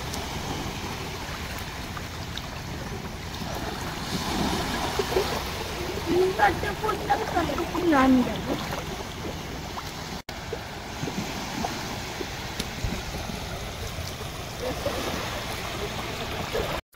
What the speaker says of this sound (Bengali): আসলে এই জন্য আপনাদেরকে শোনাতে চেষ্টা করেছি এই ঢেউয়ের সাউন্ড